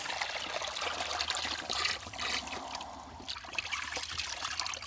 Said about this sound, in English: Where is the water coming from?